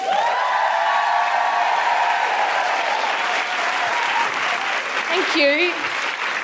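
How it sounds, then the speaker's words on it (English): A theatre audience at the Sydney Opera House applauds steadily in a dense, sustained wave under faint sustained tones, and someone briefly speaks near the end. "please put your hands together and welcome to the Sydney Opera House stage"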